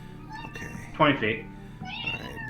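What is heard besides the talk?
cat meowing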